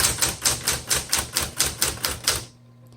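Rapid, evenly spaced keystrokes on a 1970s Smith Corona Electra 210 electric typewriter, about ten sharp mechanical clacks in a row, close up, then a quiet electric hum as the typing stops.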